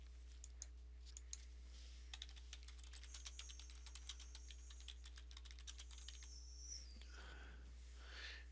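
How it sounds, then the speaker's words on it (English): A file name is typed on a computer keyboard as a quiet, quick run of key clicks with short pauses, heard alone in a calm room. "type in a file name"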